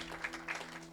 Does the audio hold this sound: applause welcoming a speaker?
yes